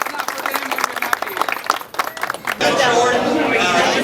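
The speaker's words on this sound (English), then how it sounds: "let's give them a round of applause" Applause at a Dirt Cheap store opening in Millington, a burst of clapping and crowd noise that swells loudly in the second half after someone speaks over a crowd.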